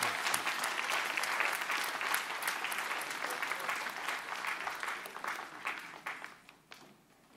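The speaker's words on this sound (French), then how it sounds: "Est-ce que vous pouvez applaudir notre Dieu encore une fois?" A church congregation applauds, a lively wash of many hands clapping that is strong at first and gradually thins out toward the end, heard fairly far off.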